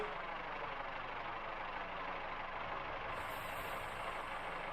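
Train brakes apply on a Riviera Line passenger service, heard as a steady, continuous rushing hiss and rumble with a faint high squeal joining partway through.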